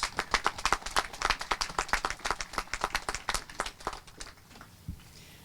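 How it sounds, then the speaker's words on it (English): Audience claps and applauds at an outdoor Memorial Day ceremony after a community chorus performance, a steady patter of many hands that thins out and fades near the end. "Please give them a round of applause."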